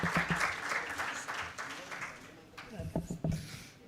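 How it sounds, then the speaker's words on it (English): Audience applause at a book launch, a dense wash of clapping that is fairly loud at first, then thins and fades as a voice begins speaking over the end. "a round of applause, please."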